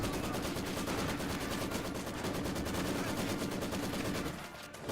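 Rapid, continuous machine-gun bursts from a Maxim in the Company of Heroes 2 strategy game, loud and dense throughout, thinning briefly near the end before resuming.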